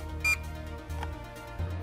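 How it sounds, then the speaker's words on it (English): A short, high electronic beep sounds once from a nearby retroreflectometer during calibration over a low hum, followed by faint clicks. "Pull the trigger until a beep sounds."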